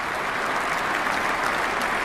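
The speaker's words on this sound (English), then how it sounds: "You see people applauding" Audience applause from people at a gathering of Russian religious leaders, a dense, steady clapping that fills the whole short stretch at an even, loud level with no talk.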